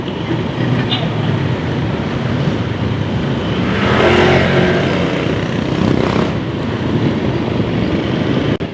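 A motorcycle rides along the road with a loud, steady roar of engine and wind rush, unbroken for the whole stretch and swelling slightly midway.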